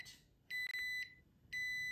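A bread machine signals it has finished with electronic beeps: a short tone, then two longer steady beeps with pauses between, clear against a quiet room.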